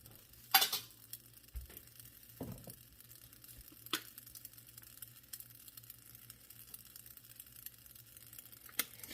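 A soft, steady sizzle of pork loin chops frying in a pan, with a few clinks and scrapes of a utensil stirring or turning.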